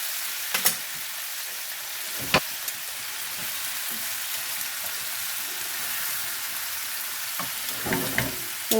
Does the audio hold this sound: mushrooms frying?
yes